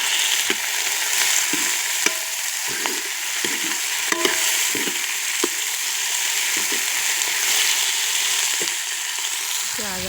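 Chopped tomato and green chilies are stirred into onions frying in a pan, giving a steady loud sizzle with scraping spoon strokes throughout and no talking.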